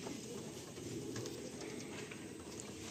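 Madrasi pigeons cooing softly and steadily in a low murmur, with no talk over the sound.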